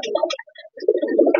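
A racing pigeon, tagged and being readied for vaccination, coos in low throaty bursts with a brief lull in the middle, close and clear, and no talk over it.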